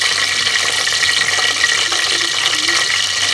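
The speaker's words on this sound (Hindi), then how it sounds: "घी हमारा गर्म हो चुका है, तो इसके अंदर हम डाल लेते हैं प्याज।" Onions hit hot ghee in a pan for a biryani, a loud, bright, steady hiss of sizzling close up that lasts the whole brief moment.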